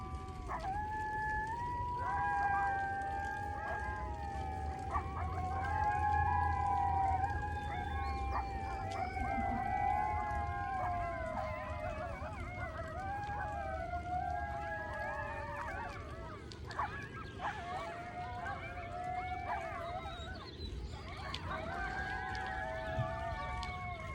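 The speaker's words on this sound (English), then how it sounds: "Oh, I hear coyote." Coyotes howl and yip in a field not far off, a dense chorus of rising, wavering cries that runs steadily throughout over a low outdoor background.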